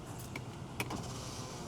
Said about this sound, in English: Window works up and down or no?